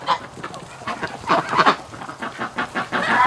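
A pet goose named Goose Lee, kept with wintering ducks and geese, honks repeatedly in a series of close, loud, uneven calls with no talk over them.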